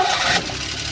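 A small Daihatsu Hijet truck engine cranks briefly and catches, a short burst of mechanical scraping and revving, close and fairly loud.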